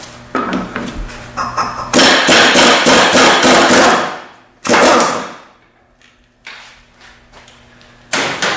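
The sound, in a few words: impact gun removing a mower blade bolt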